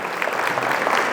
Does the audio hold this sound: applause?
yes